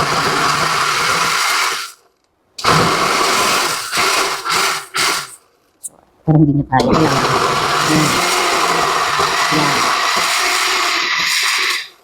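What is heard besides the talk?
blender running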